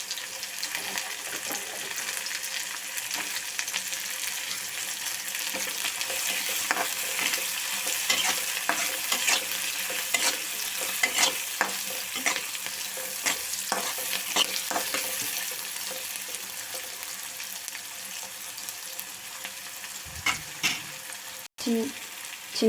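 Peas sizzle and spatter in a pan while egg semiya is being cooked, a steady fry with scattered pops and stirring clatter throughout. A spoon knocks against the pan near the end.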